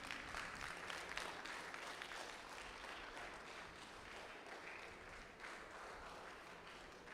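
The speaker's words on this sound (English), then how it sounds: "please greet him with a great round of applause" A conference audience applauds steadily for several seconds, a dense wash of clapping hands at moderate level, fairly uniform throughout with faint voices underneath.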